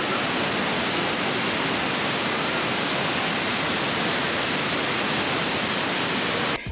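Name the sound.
waterfall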